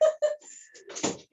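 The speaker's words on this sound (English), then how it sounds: "I'm going to close the door." A door swings shut with a short, solid thud close by, following a few brief sharp sounds.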